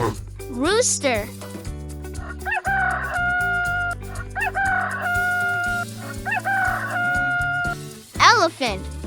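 A rooster crows several times, with long rising-and-falling calls at the start, in the middle and again near the end, set against steady background music.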